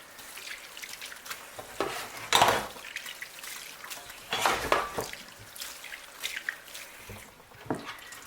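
Cooked white beans are rinsed with water in a strainer, giving soft splashing and trickling with a few louder surges of pouring water and occasional clinks, otherwise quiet with no talk.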